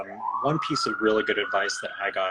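A police siren wails outside, its tone rising and holding steady at moderate volume beneath a person speaking close by throughout.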